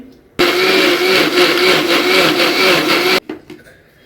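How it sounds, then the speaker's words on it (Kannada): A kitchen mixer grinder pulverizes eight to ten black peppercorns for a vegetable pulao paste: one loud, continuous whirring burst of about three seconds that starts and stops abruptly. "ಎಂಟರಿಂದ ಹತ್ತು ಕಾಳಷ್ಟು ಮೆಣಸು ಇವಾಗ ಇದನ್ನ ರುಬ್ಕೊತೀನಿ"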